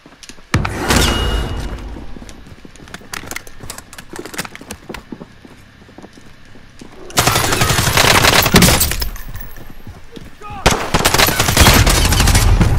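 Automatic weapon fire from a Call of Duty Modern Warfare match comes in repeated loud bursts and scattered single shots, with heavy sustained volleys in the second half and brief quieter gaps between them.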